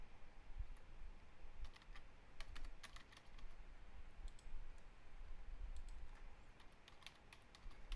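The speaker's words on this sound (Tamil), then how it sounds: "சரி, டைப் பண்ணிக்கிறேன்." Steady typing on a computer keyboard while writing React JavaScript code, a continuous run of close, light key clicks with uneven rhythm over low background hum.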